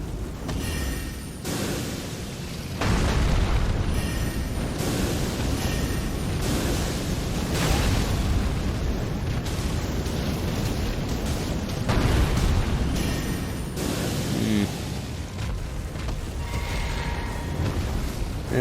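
Fire attack explosions in Elden Ring roar in a dense, loud wall of rumbling blasts and crackling bursts, surging in waves with sharp peaks throughout, heavy and close with no voices over them.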